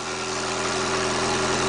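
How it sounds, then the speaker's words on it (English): A 1942 Willys engine idles close by, its loud, rough exhaust leak from a snapped-off pipe making a steady, unbroken rumble that runs throughout with no talking. "I have such a huge exhaust leak from where the pipe snapped off the exhaust pipe."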